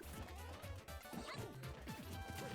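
Dog barking in Super Smash Bros. 4 during a tournament match, several short bark-like yips mixed with crashing and hitting game effects.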